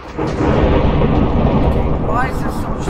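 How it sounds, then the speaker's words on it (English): Loud, crackling thunder in the Minecraft video game, a continuous booming roar with sharp crackles near the end, close and dominant, with no speech over it. "Thunder, calm the heck down."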